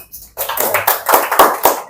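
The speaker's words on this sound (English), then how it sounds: "So please clap for him." An audience claps for a student presenter at a climate change talk, a burst of applause from a crowd that starts abruptly and continues steadily with dense, overlapping hand claps.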